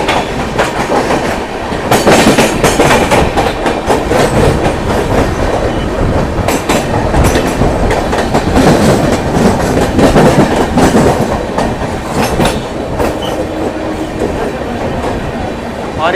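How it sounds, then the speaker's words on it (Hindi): The Haridwar–Bandra Express running on rails, heard from onboard as a loud, continuous rumble with steady rhythmic clickety-clack of wheels over rail joints throughout. "हरिद्वार बांद्रा एक्सप्रेस।"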